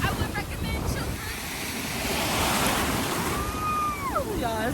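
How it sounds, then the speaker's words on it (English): Violent ocean waves crash and roar at Waimanalo Bay, Hawaii, a steady loud surf wash with heavy wind buffeting the microphone throughout. "Oh yeah, the waves are violent."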